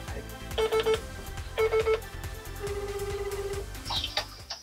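Telephone keypad dialing tones: two short bursts of beeping tones, then a faster run of rapid beeps, followed by a higher ringing chirp, heard close over faint background noise.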